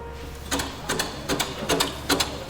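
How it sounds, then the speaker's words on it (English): The engine of an O2 Locomobile steam car, running on compressed air, gives off rapid, rhythmic mechanical chuffs and clicks in short repeating bursts, close and moderately loud. "I just want to show you on this motor how much power you have with an O2 locomobile"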